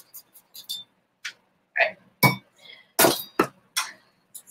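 A spoon clinks lightly against a dish while grated nutmeg is stirred into spinach and cheddar quiche filling. The scattered, close clinks and taps come in irregular bursts, with no one speaking.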